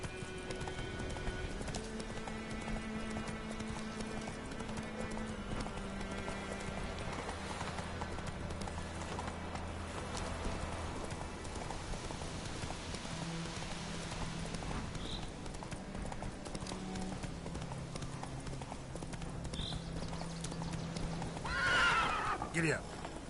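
Roach, a horse in The Witcher: Wild Hunt video game, gallops with steady rhythmic hoofbeats and lets out a whinny, while game music plays and a player speaks over it.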